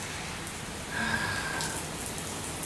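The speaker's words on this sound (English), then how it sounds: "I love a good rainstorm, especially one in the spring." Heavy spring rain falls outdoors, a faint, steady broadband hiss of drops on surfaces that swells slightly partway through, with no talking.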